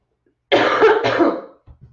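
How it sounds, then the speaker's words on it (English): A single burst of harsh coughing, loud and close, followed by a couple of faint short throat sounds. "got me coughing, coughing."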